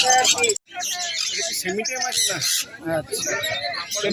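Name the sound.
lovebirds chirping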